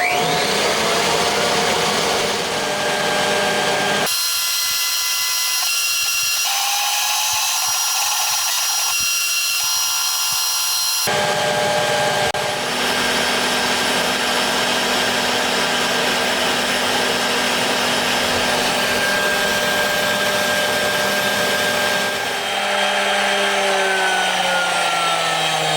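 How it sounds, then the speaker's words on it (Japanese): A vacuum cleaner cleans up after CNC machining of a pattern for a cast 125cc four-cylinder, 16-valve engine. A loud, continuous whine and roar runs the whole time, with abrupt changes in tone as the nozzle moves, and no talking. "では掃除機。"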